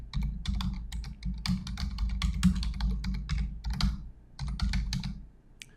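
Fingers type quickly on a computer keyboard, producing rapid, close clicking in irregular bursts with short pauses, over a low steady hum and without speech.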